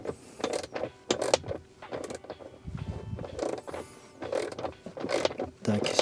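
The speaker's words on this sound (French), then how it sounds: "là au moins j'arrive à dévisser" A tool unscrews fasteners while a Hansshow swivel screen is mounted in a Tesla Model 3/Y, giving close, quiet clicking and ratcheting turns with small creaks and rustles in irregular bursts.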